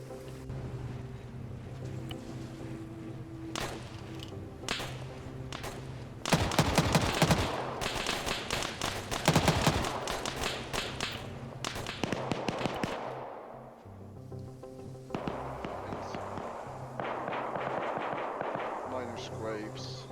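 Low-caliber gunfire in Arma 3 during a special-forces firefight rings out as scattered single shots, then dense bursts in the middle, over a steady droning engine and wind, with voices talking intermittently.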